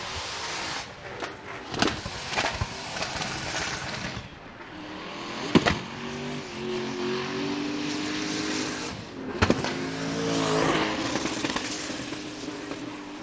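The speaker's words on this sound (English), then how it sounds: "this is a great car to lay out and listen to, the Mr. Cool Cash Racing BMW" A BMW drift car on the Road Atlanta track during Formula Drift competition, its engine revving and crackling with sharp pops and bangs, several loud bursts over a steady roar from the circuit.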